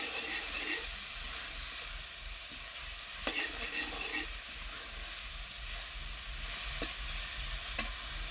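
Cumin and red tomatoes frying and being stirred in a pan, a steady hiss and sizzle with scattered scraping clicks of the spoon, close and fairly quiet, with no talking.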